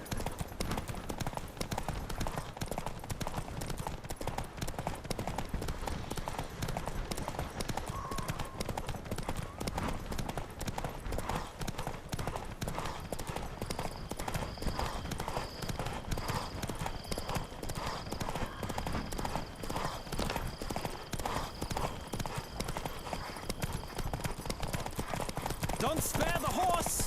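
In a horse race in The Witcher 3 video game, hooves pound in a fast, steady galloping rhythm throughout, loud and continuous, with voices calling out over the hoofbeats.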